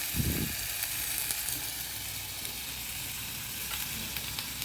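Onion sautés in a pan for a raw papaya bhaji, a soft, steady sizzle with faint stirring scrapes and occasional light clicks, fairly quiet and continuous, with no talking.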